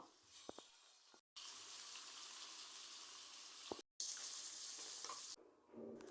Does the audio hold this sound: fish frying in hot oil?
yes